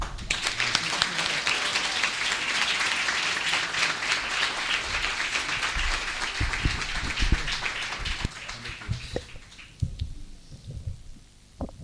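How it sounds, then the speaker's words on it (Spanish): An audience at a cultural centre lecture gives a warm round of applause to welcome the speaker, broad sustained clapping that thins into scattered claps and fades out toward the end. "Así que te damos la bienvenida con un cálido aplauso."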